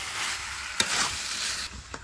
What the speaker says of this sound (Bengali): ভালো করে খাসি মাংসটা নাড়াচাড়া দিয়ে নিতে হবে, মশলাটার সঙ্গে মাখিয়ে নিতে হবে